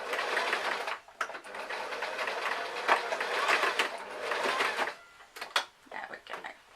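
Sewing machine stitching a strapped top, a close, busy mechanical whir in several bursts with short stops between runs, and faint speech near the end.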